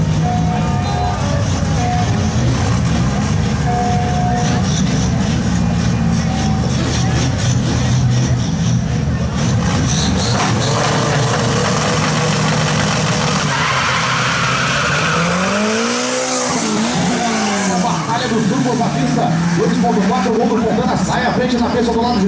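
A turbocharged Volkswagen Gol drag car roars loud and close at a Brazilian drag racing event, its engine revving hard and rising in pitch before a sweeping pass, with a commentator talking over it throughout.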